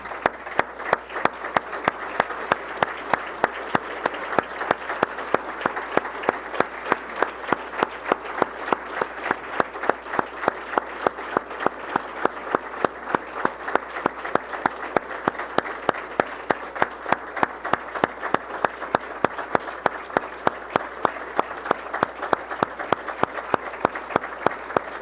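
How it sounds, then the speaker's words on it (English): A standing audience honouring Canadian service members keeps up long, sustained applause, a loud, even roar of many hands that carries on without a break. "Hard to stop clapping for these great Canadians."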